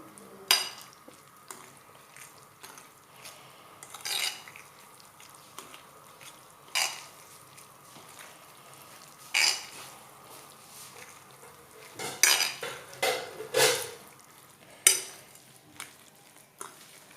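Sardine ball ingredients with paprika being mixed by hand in a bowl, quiet with scattered sharp clinks and scrapes of a utensil against the bowl spaced irregularly over a near-silent background.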